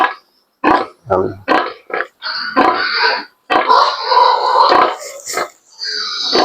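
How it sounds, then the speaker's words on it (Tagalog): Healthy piglets on a small farm grunting up close, a quick run of short snorting grunts and squeals in bursts with brief pauses between them. "yung mga biik natin, malulusog"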